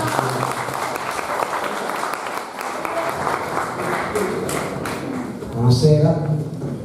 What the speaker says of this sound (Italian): Un applauso a Sandra Di Bernardino